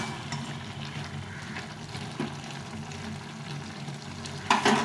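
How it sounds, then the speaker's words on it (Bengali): Leafy greens cook under a lid in a pan with a steady, low sizzle and soft bubbling, and a brief clatter comes near the end; no one speaks. "এখন এটাকে ভালো করে সেদ্ধ করে নেব, ঢাকা চাপা দিয়ে সেদ্ধ করে নেব।"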